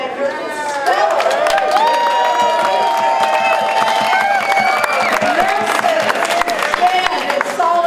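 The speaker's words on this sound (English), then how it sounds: "Round of applause to International Teamsters President Sean O'Brien for his stellar" A Teamsters rally crowd at the California Capitol claps and cheers for the union president, loud sustained applause with whoops and shouts mixed through a dense roar of voices.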